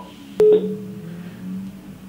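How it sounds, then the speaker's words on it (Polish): A single short electronic beep of a phone keypad, then a faint steady tone lingering under quiet background noise. "Po prostu zadzwonię do mojego kolegi Rafała."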